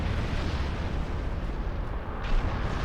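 A battleship blowing apart in Star Trek Online, a loud continuous roaring blast that rumbles heavily throughout with a brief extra burst near the end.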